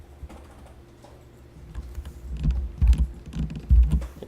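Keyboard keys and mouse clicks while retouching artwork in Photoshop, a soft run of close, irregular taps that grows denser and louder toward the end, with no talking.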